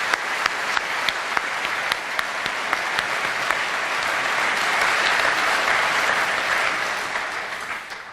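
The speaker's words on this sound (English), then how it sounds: "And please a big round of applause for all these fabulous pupils." A school prize-giving audience applauds pupils with a full, steady wash of clapping. It holds loud and even for the whole stretch and eases slightly at the end.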